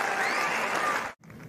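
A crowd at a tennis match in Indian Wells bursts into loud, dense applause after a big forehand, which then cuts off sharply before a quieter murmur resumes.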